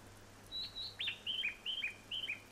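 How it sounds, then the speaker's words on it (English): A bird chirps loudly in Train Simulator 2022 on a Tohoku commuter route, a series of sharp high tweets repeating in quick bursts over a faint steady hum. "that bird is really loud."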